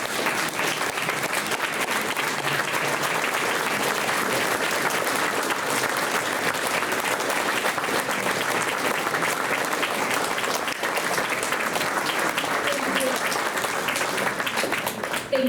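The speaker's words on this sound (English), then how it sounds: "one more round of applause" Sustained applause from an audience at a veterans hall of fame induction ceremony, dense, steady clapping filling the room for the whole stretch without letting up.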